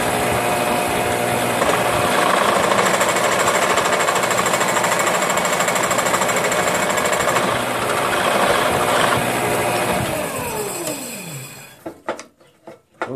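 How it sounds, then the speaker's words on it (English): A drill bores out the center hole of a part for a dual-band 2 m/70 cm J-pole antenna, opening it to just under 3/4 inch. A loud, steady grinding whir runs for about ten seconds, then spins down and stops. "I want to drill out the center hole to"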